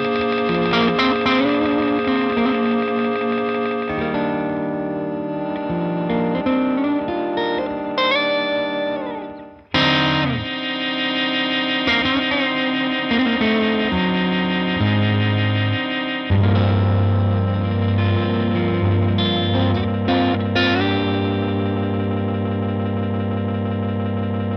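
Effects pedals from GAMECHANGER AUDIO shape a sustained, distorted electric guitar tone with echo and chorus, playing held chords and bending notes loudly and continuously, with one brief dropout partway through.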